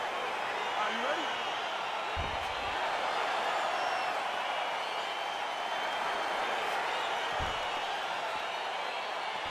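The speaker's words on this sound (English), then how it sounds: "crowd getting excited as this fight gets underway" Steady arena crowd roar in the video game UFC 4 as a fight gets underway, a broad constant wash of cheering with a couple of brief low thumps, sustained and fairly loud throughout.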